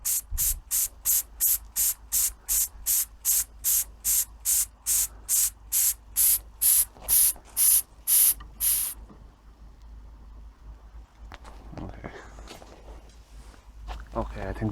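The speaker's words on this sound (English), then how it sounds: "Okay, I think we've got ourselves a bit of steam pressure here now." An antique model steam engine lets out a steady run of about twenty sharp, evenly spaced steam hisses, close and loud, then falls quiet to a low background with a few faint knocks.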